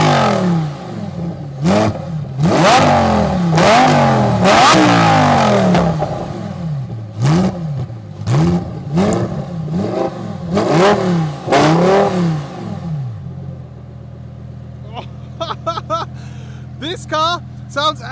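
Lamborghini Huracan Sterrato 2024 off-road supercar with a V10 engine revved hard from outside, a series of loud, rising and falling blips in quick succession, then a lower idle and sharp short revs near the end.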